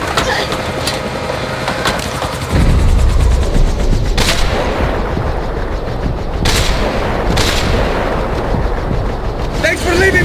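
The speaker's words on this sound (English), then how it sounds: "He's gonna shoot!" Gunfire in Max Payne 3, a loud sustained barrage of rapid shots and heavy booms in a chaotic firefight, with sharp cracks punctuating the din.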